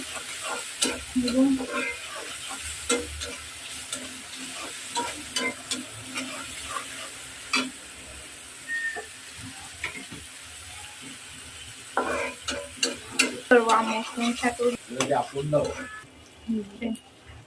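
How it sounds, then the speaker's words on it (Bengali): Eggs frying in a pan in a home kitchen, stirred with a utensil: a continuous sizzle broken by sharp, irregular scraping and tapping strokes that grow busier toward the end, with occasional speech faintly beneath. "একটু নাড়াচাড়া করে নিই।"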